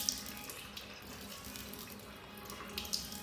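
A household tap runs at low pressure right after the pump motor has been switched off, giving a steady, soft hiss of flowing water with small splashes and no voices.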